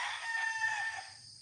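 A rooster crows once, a single sustained call that fades out, heard at moderate distance over faint low background noise.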